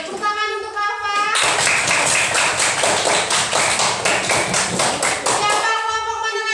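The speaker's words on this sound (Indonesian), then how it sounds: "Tepuk tangan untuk Bapak" Children in a classroom give a round of rhythmic hand clapping for a presenter, crisp and close, framed by a voice speaking before it starts and again as it fades.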